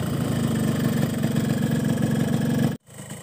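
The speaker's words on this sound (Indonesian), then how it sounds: "Dan ini adalah sampel suara pada saat mesin udah panas." A warm two-stroke GGi Top Speed motorcycle engine idles close by with a steady, buzzy putter, cutting out briefly near the end before resuming.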